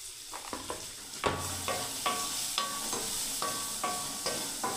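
Black chickpeas fry in a pan with turmeric, chili powder and salt, a quiet steady sizzle punctuated by rhythmic scrapes and taps of the spatula stirring them.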